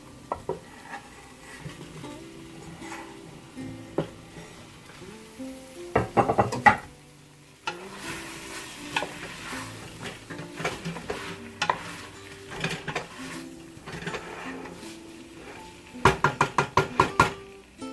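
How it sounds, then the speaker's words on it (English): Potatoes go into a hot pan for egg and potato sabji and are stirred, giving a steady sizzle under bursts of spatula scraping and knocking against the pan, loud clusters around the middle and the end. "Now we're going to add our potatoes"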